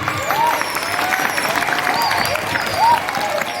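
Audience applause at a Maulid Nabi celebration held by an Islamic school, a dense steady patter of clapping with tonal whistles or music faintly layered above it.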